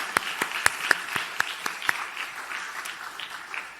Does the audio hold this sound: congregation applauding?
yes